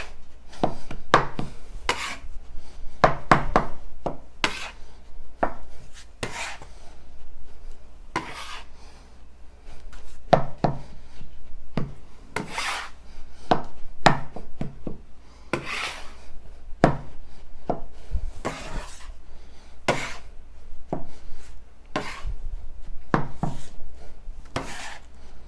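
A bench scraper cuts cheese, flour, egg and potato together into gnocchi dough on a work surface. Repeated scraping and chopping strokes fall in an uneven but steady rhythm, close and clear, with no talk.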